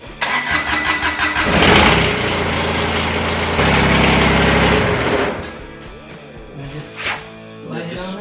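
A 2011 Kubota BX1860 compact tractor's engine cranks and starts, then runs at a loud steady idle before cutting off, with people talking briefly near the end.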